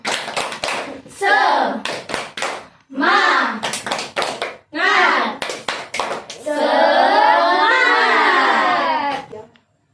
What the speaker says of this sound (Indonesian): Ice breaking seperti biasa ya, tepuk semangat